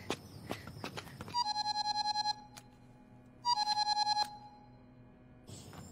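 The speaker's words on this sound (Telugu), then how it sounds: "బ్రదర్ ఫోన్ అందుకో." A phone ringtone in a thriller film scene plays two bursts of rapid, trilling electronic tones separated by a short gap, fairly clear over a quiet background.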